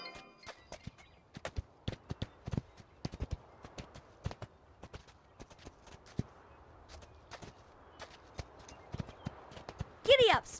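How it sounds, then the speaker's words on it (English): Horse hooves clip-clop at a steady walking pace in the Spirit Lucky's Big Adventure video game on Nintendo Switch, crisp and fairly close over a quiet background, with a short whinny-like sound near the end. "Giddy up, Spirit!"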